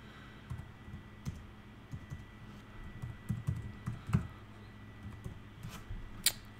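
Quiet typing on a computer keyboard during database setup, scattered soft keystrokes in short irregular clusters with one sharper click near the end, close but faint, no speech.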